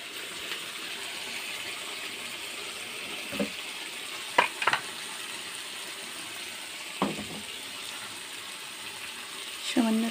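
Spice masala frying in a pan, a soft steady sizzle underlying a few sharp clicks and scrapes as it is stirred, fairly quiet and close.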